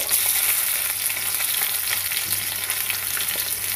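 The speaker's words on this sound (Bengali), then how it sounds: "তো প্রথমে আমি দিচ্ছি অনিয়ন এবং ক্যাপসিকাম একসাথে।" Onion and capsicum sautéing in a pan, a steady, close hiss of frying with light stirring throughout, and no voices.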